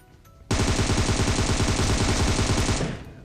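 Rapid automatic gunfire in a video game shooter erupts abruptly and rattles on in a dense, loud burst for over two seconds, then cuts off with a short fading tail.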